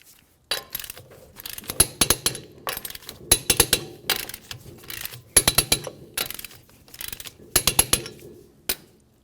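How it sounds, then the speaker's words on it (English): Torque wrench tightening wheel lug nuts on a 1994-1997 Honda Accord, with bursts of sharp metallic clicks in clustered groups, close and fairly loud, separated by brief pauses as each nut is done in a crisscross order. "Let's torque these in a crisscross manner."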